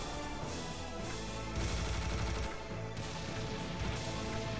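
Sustained minigun fire in the first-person shooter Serious Sam HD, a dense, continuous roaring clatter with heavier bursts, loud and unbroken throughout with no talk over it.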